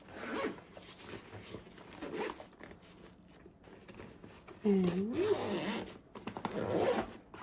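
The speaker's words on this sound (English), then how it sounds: "And let's just zip everything up." A zipper is drawn across a packed travel bag in several short pulls, close and crisp, with a few quiet spoken words.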